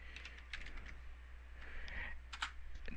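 Keystrokes on a computer keyboard as a command is entered to start a VNC server for running Ubuntu on an Android tablet, a quiet irregular run of light taps over a steady hum.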